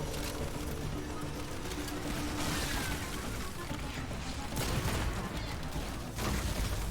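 Rapid bursts of gunfire in the video game Aliens: Fireteam Elite crackle almost continuously, mixed with bangs and clatter, loud and dense with no pauses.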